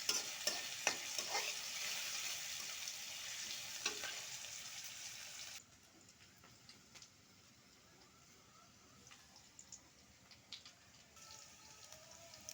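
Green chilies and onion hit hot oil in a wok, a loud sizzle and crackle that drops to a quieter frying hiss midway, with occasional clicks of stirring.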